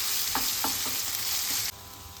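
Ginger-garlic paste sizzles loudly in a hot pan while a spoon scrapes and stirs it in three or four quick strokes, the bright frying hiss continuing without a pause and no voice present.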